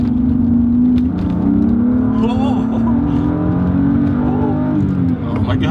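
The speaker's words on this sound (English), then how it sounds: "I've noticed that the car chirps and spins the tires a lot more, shifting from first to second than it used to." A BMW M3 fitted with an M50 intake manifold accelerates hard from inside the cabin, its engine note climbing steadily in a loud, sustained drone that continues under the driver's voice.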